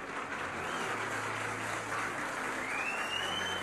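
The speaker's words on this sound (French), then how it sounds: "On peut l'applaudir." Studio audience applauding a quiz contestant's correct answer on a French game show, a continuous even patter of many hands at moderate level, with no talk over it.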